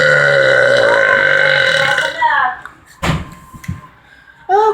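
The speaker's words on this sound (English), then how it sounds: "I don't think anybody in this house or in this neighborhood can burp like I can." A loud, long, drawn-out human burp lasting about two seconds and dominating the sound, followed by quieter knocks and short bursts of voices.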